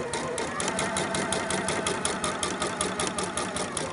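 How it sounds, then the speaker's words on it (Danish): A sewing machine stitches a shirt in a continuous, fast, even run of needle strokes, close and steady throughout with a mechanical hum beneath, no talking. "Så jeg kører her ned til min prik, og så tager jeg et sting på tværs."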